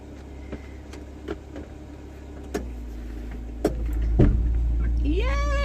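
A Ford Transit van with an automatic transmission idles with a low rumble, and a few sharp clicks and a clunk come as it is shifted into drive. The engine note then swells and a rising whine enters near the end.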